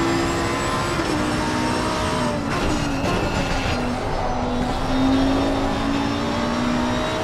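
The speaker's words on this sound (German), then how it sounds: "Motor, Apex-Bereich, der Lambo wollte gar nicht aus dem Quark kommen" A Lamborghini engine in a sim racing game pulls out of a corner apex at Oulton Park, droning loudly and steadily at close range, its pitch sagging and then rising slowly as the car struggles to accelerate.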